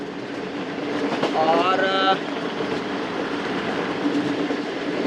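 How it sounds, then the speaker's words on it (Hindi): The Karachi Express passenger train passing near Kot Radha Kishan in Pakistan, a steady rumble of rolling railcars with a short horn blast partway through, heard from close by with someone speaking briefly. "दो बजकर 25 मिनट पर दोस्तों ट्रेन पास हो रही है कोट राधा किशन"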